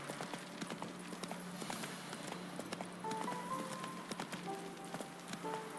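Quick rhythmic hoofbeats of a horse galloping in the video game The Witcher 3, faint and steady with soft game ambience and short musical tones behind.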